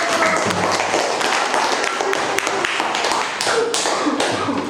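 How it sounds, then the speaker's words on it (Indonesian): A classroom of students claps together, a dense, loud and continuous patter of many hands held steady for nearly five seconds with sharper individual claps standing out, close and filling the room. "Ya, kasih tepuk tangan."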